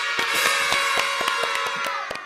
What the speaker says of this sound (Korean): 오늘은 박수 좀 더 오래 치고 가죠.